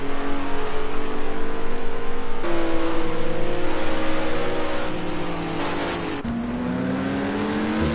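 GT race cars lapping the Snetterton circuit, engines roaring loud and steady close by with rising and falling revs and gear changes, the pitch jumping as cars pass.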